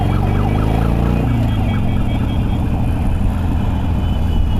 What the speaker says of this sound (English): the problem with these ambulances, you can hear them, but you can't see them